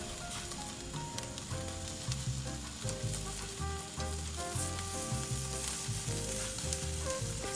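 Vegetables for salsa roja roast over an open flame, giving a steady crackling sizzle with a constant low flame roar throughout.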